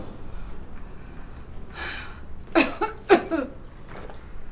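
A few harsh coughs in a row, fairly close, with a softer breathy sound just before them and a faint one trailing after.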